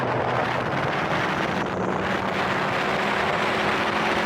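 A Ford Powerstroke truck with a squatted stance rolls along a bumpy back road, a steady loud rumble of road and cabin noise with wind buffeting, constant throughout and no voices.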